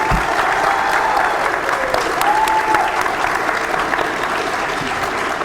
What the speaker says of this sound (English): please join me in giving a round of applause for Mr.